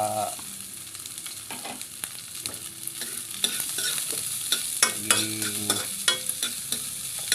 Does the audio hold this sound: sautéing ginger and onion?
yes